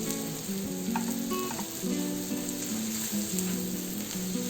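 Cabbage and green peas fry in a hot pan for a spicy Indian curry, giving a steady, close sizzle with occasional stirring scrapes, continuous and fairly loud, with no talking.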